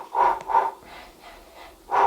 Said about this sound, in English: so you can breathe in.